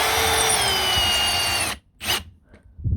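A power drill with a T30 bit drives a screw into a window sill in one loud, steady whir that stops abruptly, followed by a short second burst.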